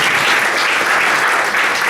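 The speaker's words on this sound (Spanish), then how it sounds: "Aplausos para la comisión." Dense, loud applause from an audience at a university acoustics engineering congress, steady clapping filling the whole short stretch without talk.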